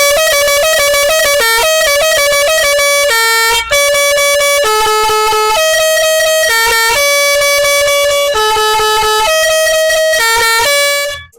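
A 12V DC compressor-driven three-trumpet air horn combo blares a loud, continuous melodic sequence of changing tones, running without pause for over ten seconds.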